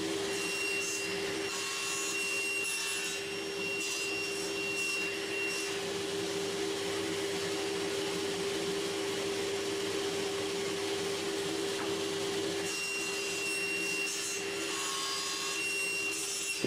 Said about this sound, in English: the tenons are now cleanly cut by passing them across